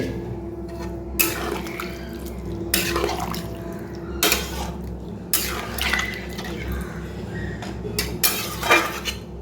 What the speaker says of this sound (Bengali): একটু গরম জল দিয়ে দিচ্ছি।